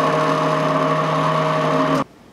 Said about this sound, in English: Blend.